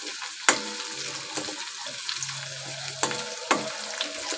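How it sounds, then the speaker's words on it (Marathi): Garlic sizzles and crackles in hot oil in a pan while kadhi is being prepared, giving a continuous fry hiss with a few sharp clinks of a utensil stirring. "लसूण कडून घेत आहे लसूण कडत आहे"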